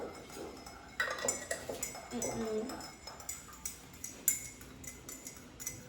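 A spoon stirs a drink in a glass, quiet clinks and scrapes spread over several seconds, with a voice talking faintly in the background.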